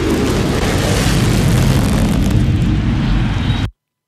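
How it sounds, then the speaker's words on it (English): A rosin bag rigged as a prank bursts on a baseball pitcher's mound, a loud sustained explosive roar and crackle filling about three and a half seconds before cutting off abruptly. "Somebody played the old exploding rosin bag joke on."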